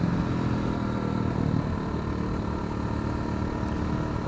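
Steady, loud engine drone of a Hyosung GD250R 250cc motorcycle while riding, a continuous close rumble with wind noise and no clear shifts in pitch.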